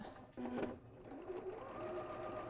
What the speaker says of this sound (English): everything's sewn with a 1/4 inch seam. So I've got that set up on the machine here.